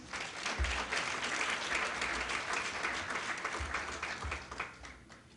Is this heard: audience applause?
yes